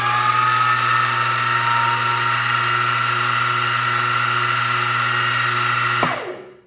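A used milling machine with a 1.5 horsepower motor spins up and runs at high speed, a steady close hum with a high whine and constant tonal drone for about six seconds, then cuts off abruptly and falls silent.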